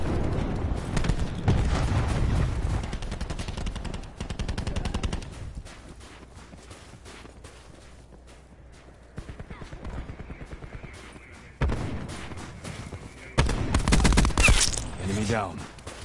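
Bursts of Swordfish burst-fire rifle gunfire from a Call of Duty Black Ops 4 multiplayer match, loud volleys at the start and near the end with quieter, scattered shots between and a faint voice in the mix.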